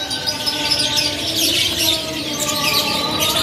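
Canaries of the F1 line chirp and trill inside a bird shop, several birds calling at once in a bright, continuous chorus of overlapping tweets and whistles, fairly close and loud.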